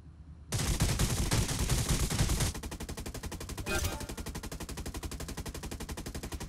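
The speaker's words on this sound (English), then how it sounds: "good luck, have fun, and shoot people" Rapid automatic gunfire in a Death Race vehicle combat game mode, a loud dense burst of shots followed by a steady quieter stream of repeated firing.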